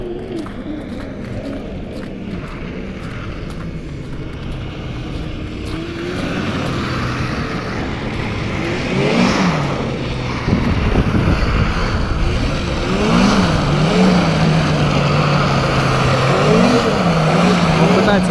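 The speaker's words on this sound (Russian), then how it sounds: "Он очень быстро уехал, 600 кубовый, он примерно идет сейчас соточку миль, 160 километров в час валит на нем." A 600cc snowmobile roars past on snow at high speed, its engine whine rising and bending in pitch as it passes through, loud and close over wind noise, with a brief spoken word.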